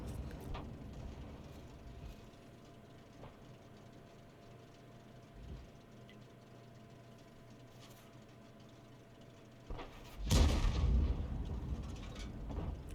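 M44 self-propelled artillery in World of Tanks fires a round with a single sharp, heavy boom near the end of a quiet stretch of low rumble.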